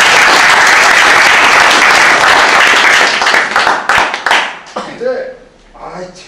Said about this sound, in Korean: 이럴 때 박수 한번 치고